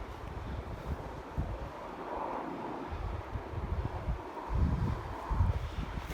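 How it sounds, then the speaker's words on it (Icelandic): Strong wind gusting outdoors on an open coastal walk, a steady broadband roar with rising and falling blasts buffeting the microphone throughout, no voices. "Voðalega hefur þetta rokið hérna upp."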